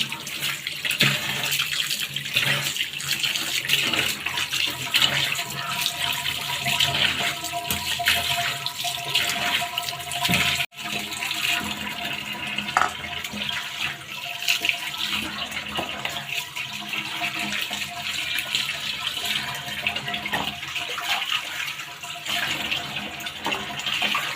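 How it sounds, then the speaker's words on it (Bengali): Tap water runs steadily into a sink as cut sea fish are rinsed, a continuous splashing hiss with small shifts where the pieces are handled. "এবার মাছগুলো সুন্দর করে ধুয়ে নিচ্ছি"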